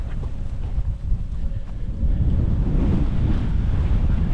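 Strong wind, steady around 20 mph and gusting over 35, roars across the microphone outdoors as a dense, continuous buffeting that swells louder partway through.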